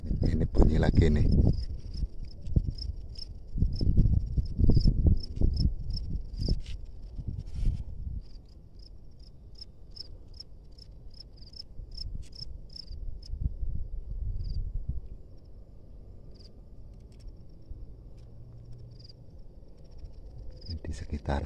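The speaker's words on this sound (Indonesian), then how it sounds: "Ini bunyi lagi nih." Field crickets in rice paddy straw give rapid, thin, high chirps in bursts, some close and some faint. Heavy rustling and poking of straw nearby is loudest in the opening seconds.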